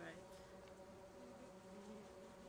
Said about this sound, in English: forgot about the bee.